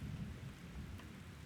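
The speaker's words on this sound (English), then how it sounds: "Let the sound of the rain and my presence ease your mind." Steady rain patters through a rainstorm while low thunder rumbles underneath, the whole scene soft and distant over a brief moment.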